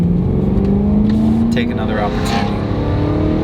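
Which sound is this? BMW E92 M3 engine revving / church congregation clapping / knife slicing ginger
BMW E92 M3 engine revving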